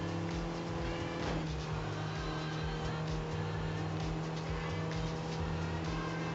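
A racing car in a driving video game runs at full throttle with a continuous, fairly faint, even engine drone. A brief tonal sweep comes early on, and the drone otherwise holds at a constant level throughout.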